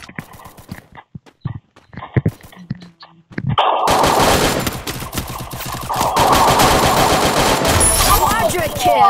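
Rapid bursts of gunfire in a video game shooter, at first scattered single shots and short volleys, then a dense, continuous loud fusillade with game effects layered over it.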